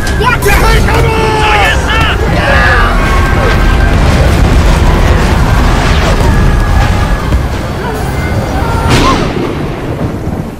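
Heavy artillery explosions boom and rumble loudly during a battle, with shouting voices and chaotic noise layered over the continuous thunderous blasts.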